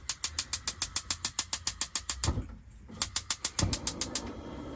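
Rapid regular ticking clicks from the push-button piezo igniter of a gas oven in a Challenger 560 caravan, a burst of clicks, a brief pause, then another run of clicks, close and fairly loud.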